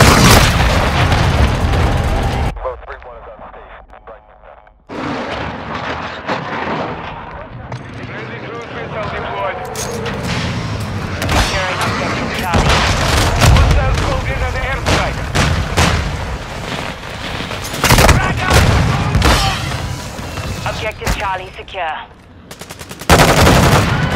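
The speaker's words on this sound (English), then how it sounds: "Hostile cruise missile launched." Cruise missile explosions and gunfire in Call of Duty Ground War on the Rohan Oilfields map: loud booms and rapid bursts of fire, heavy and close, with brief lulls and voice callouts over the chaos.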